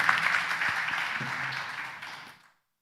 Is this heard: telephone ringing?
no